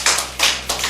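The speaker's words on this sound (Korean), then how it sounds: "우리 박수 한번 쳐드리기 바랍니다" A congregation applauds a deacon in a church service, with a few quick bursts of hand clapping that swell and fade within a second.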